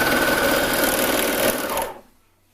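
A sewing machine top stitching leggings fabric, a rapid steady whirring run of stitches heard up close that stops abruptly near the end.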